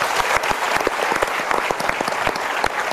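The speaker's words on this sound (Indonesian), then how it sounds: "Boleh saya minta tepuk tangan?" Studio audience applauding a guest named Mas Pepeng on an Indonesian motivational talk show, a steady wash of dense clapping with crisp individual claps poking through, sustained and fairly loud throughout.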